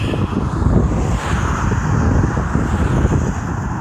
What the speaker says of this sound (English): Now that I'm on the top and a little bit sweaty, the wind is blowing